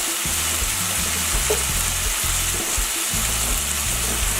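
Black rice with djon djon mushrooms and seasoning being stirred in a hot pot, a steady sizzle and frying hiss with rhythmic scraping strokes, close and continuous with no talk.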